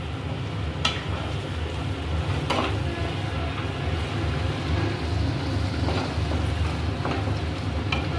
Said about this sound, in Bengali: মাংসের মশলাটা নেড়ে নেওয়া হচ্ছে